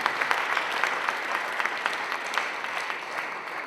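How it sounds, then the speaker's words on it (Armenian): Applause from an audience at an award ceremony in Ijevan, honoring Mrs. Hasmik Karapetyan, library director; sustained, fairly loud clapping from many hands with sharp individual claps standing out. "Ձեր ծափողջույնները Տիկին Հասմիկին։"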